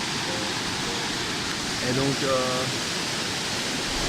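A waterfall roars close by in Panama or Costa Rica as a dense, steady rush of noise, with someone briefly speaking over it.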